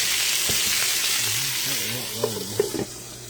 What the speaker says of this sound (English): I always like to fry my potatoes in a skillet that has a lid.